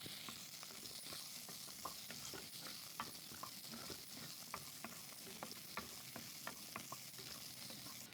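Small shallots fry in oil with cumin and chopped garlic in a kadai, giving a soft, steady sizzle with faint, scattered ticks of stirring throughout.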